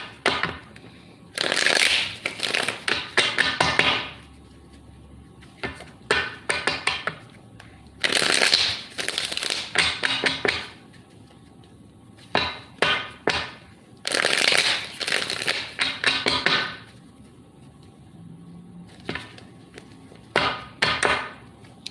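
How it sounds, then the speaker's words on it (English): Tarot cards are riffle-shuffled in repeated bursts, each a crisp fluttering rush of snapping edges, with quiet pauses between and a few soft taps. "I shuffled the cards, but I'll shuffle a couple more times."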